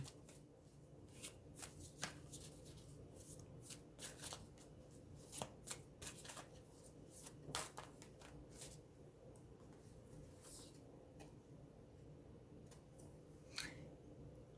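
Tarot cards shuffled during a reading, a faint, close riffle and slap of cards repeating in irregular bursts, fading toward a quieter stretch near the end, with no talking.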